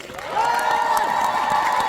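A concert crowd applauds and cheers a live band, a steady dense wash of clapping and shouting that swells after a quiet start and holds strong throughout, with no one speaking clearly over it.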